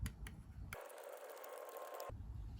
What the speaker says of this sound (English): take your large flathead screwdriver and unscrew this screw in the bottom of the grip